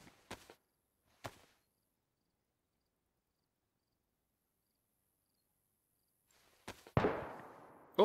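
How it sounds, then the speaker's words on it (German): Gunfire in the video game DayZ comes as a few sharp, isolated cracks spread over a quiet stretch, then a louder report at the end followed by a rushing echo, with no voices. "Die Schüsse kommen immer näher."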